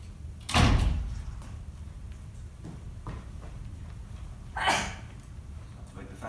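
Heavy stage doors bang open and shut in a theatre rehearsal space, two loud thudding impacts a few seconds apart with softer creaks and shuffling in between.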